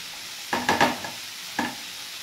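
Bitter gourd frying in oil with a few short stirring scrapes and a brief sizzle, in two quick bursts separated by a pause; nearby and moderately quiet.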